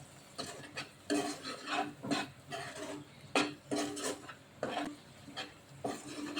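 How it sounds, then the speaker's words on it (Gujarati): Ragda pattice mixture being stirred with tamarind chutney in a pot, with repeated close scraping and clattering strokes of a spoon in an uneven rhythm and no voices. "જેમાં આપણે મિક્સ કરી દઈશું"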